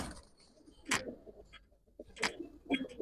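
Coos from a Giribaz silver pigeon of pallah line come in two or three soft bursts with quiet gaps between them, heard close by against a faint background.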